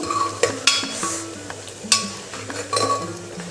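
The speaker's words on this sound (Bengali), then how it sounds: "পেঁয়াজটা ভাজা হচ্ছে মাংসের জন্য।" Onions frying in a pan for a meat curry: a soft sizzle under repeated metal utensil clinks and scrapes as they are stirred, close by, with several sharper knocks against the pan and no voices.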